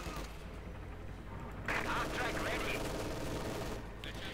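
MG42 machine gun fire in the game Company of Heroes 2, heard as sustained, dense bursts of rapid shots blended with other battle noise, steady throughout with a louder stretch in the middle.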